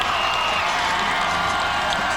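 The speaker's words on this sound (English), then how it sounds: "Oh, huge cheer." A big crowd cheers at the 2015 Kansas City Royals downtown parade as first baseman Eric Hosmer waves. The roar is dense, loud and unbroken throughout, with no distinct voices standing out.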